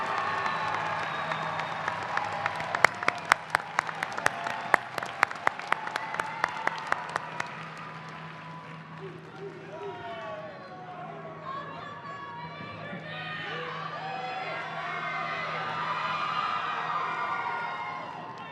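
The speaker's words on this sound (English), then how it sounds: "please look to the stands and applaud your family and friends who are here with you today" Commencement crowd of graduates applauding their family and friends in the stands, bursts of clapping and cheering in a large hall, loud at first, then fading into crowd chatter and a voice over a PA system.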